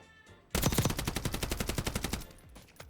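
Rapid automatic gunfire from a Call of Duty: Warzone match, a loud sustained burst of evenly spaced shots lasting about a second and a half after a quiet start, then a fading tail.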